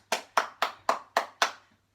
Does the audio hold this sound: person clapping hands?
yes